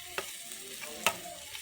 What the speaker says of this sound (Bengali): পেঁয়াজটা ভাজা হয়ে গেছে, এবার দিয়ে দেবো আদা রসুনের পেস্টটা